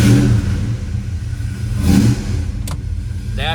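A 1966 Ford Fairlane GTA with a 390 V8 engine revs loudly and close, in two strong rising bursts with a rough idle between them, and a short high squeak near the end.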